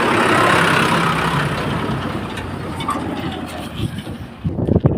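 A tractor engine rumbles in a village setting, a steady low drone with wind buffeting the microphone, slowly fading toward the end.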